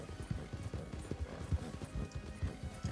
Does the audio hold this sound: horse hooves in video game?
yes